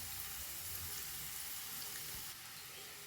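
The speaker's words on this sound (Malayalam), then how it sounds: "ഉള്ളി നല്ലോണം വഴന്നു വരുന്നുണ്ട്" Onions sautéing in a pan for a Malayalam drumstick-leaf stir-fry give a steady, soft sizzle that runs continuously at low level with no one talking.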